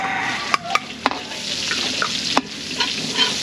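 Hot cooking oil hisses steadily as food is sautéed for a catering chop suey with chicken liver and breast, a constant near sizzle broken by sharp clacks of a utensil stirring against the pan.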